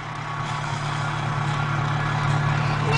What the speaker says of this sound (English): I'm just warming up the car because I haven't driven the car for a long time.